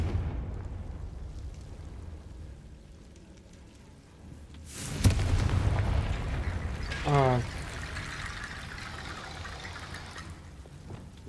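The Confringo blasting spell goes off in a wizard video game: a sudden, loud burst about midway, followed by a rumbling, crackling tail, with a player's voice talking around it.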